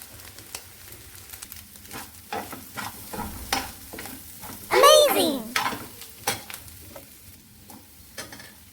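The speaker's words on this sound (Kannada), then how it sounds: "ಅದನ್ನು ಫ್ರೈ ಮಾಡ್ಕೊಳ್ಳೋಣ. ಮೊಟ್ಟೆ ಹಾಕ್ತಾ ಇದ್ದೀನಿ." Egg frying in a pan with chopped vegetables: a close, crackling sizzle broken by repeated scraping and tapping of a spatula, with one louder burst of spitting fat midway, no voices.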